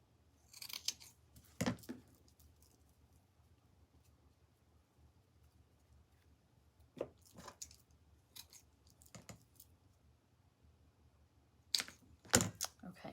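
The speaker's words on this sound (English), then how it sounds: "So I'm just going to glue that here. Then we'll cut that off." Scissors snipping through drop cloth for a snowman decoration, a few separate crisp cuts spaced apart with quiet gaps, close and clear with no talking.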